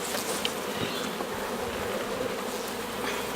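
A dense, steady hum of honey bees buzzing around an open hive as it is smoked between the frames, a continuous near drone with no talk.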